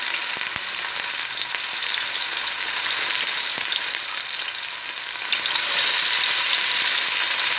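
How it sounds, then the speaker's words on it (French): Chopped onion and green onion sizzle steadily in hot oil for a yellow rice dish, a dense, close frying hiss that swells slightly louder partway through, with a few faint clicks of utensils and no talking. "l'huile, après je vais mettre l'oignon avec l'oignon vert."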